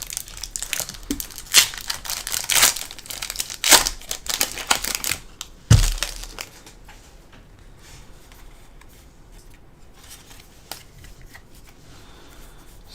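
Crinkly foil wrapper of a Pokemon card booster pack torn open and handled up close, a dense burst of crackling rustles and sharp tearing for several seconds, then quieter scattered crinkles and faint handling.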